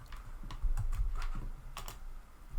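Quiet keyboard typing of a spreadsheet formula, with a handful of light, irregular key clicks over a low background hum, no speech.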